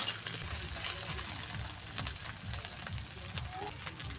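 Ginger-garlic paste sautéing in a pan for a mushroom curry gives a soft, steady sizzle with light crackles and occasional stirring, fairly quiet throughout.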